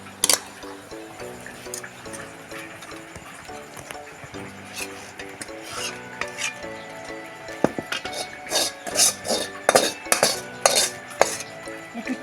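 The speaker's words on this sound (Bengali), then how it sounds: "আমি ঢেলে নেব থালার মধ্যে" A cooked palm-fruit and flour mixture is poured from a pan onto a plate, with scraping clinks of a utensil against metal and soft wet drips, growing busier and louder toward the end over a faint tonal background.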